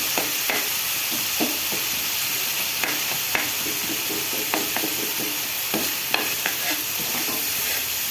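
A coarse spice paste for prawn curry fries steadily in a pan, a continuous close sizzle broken by repeated scraping stirs of a spoon, with no voices.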